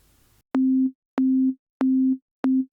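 Four identical sine wave tones from the Vital synthesizer pulse in a steady rhythm, each a pure, loud synthesized beep with brief silences between them.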